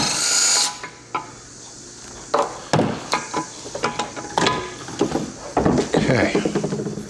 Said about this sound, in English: So we're pulling the lowers first and the top two bolts from the case.